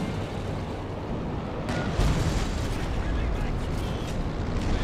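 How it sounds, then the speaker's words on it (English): Howitzer artillery barrage in the Company of Heroes 2 strategy game: a dense, continuous wash of rumbling booms and blasts, growing heavier about two seconds in and holding steady. "There's my howitzer barrage here."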